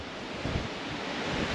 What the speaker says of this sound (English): It's blowing a gale in typical